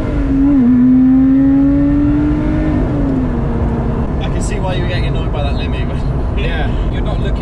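A car engine revs up and holds near the rev limiter for a few seconds, a loud steady drone that then falls away, with people talking over and after it.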